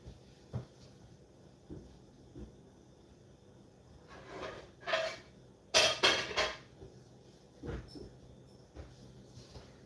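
A metal frying pan clattering and scraping, with a few sharp clanks in the middle and softer knocks around them.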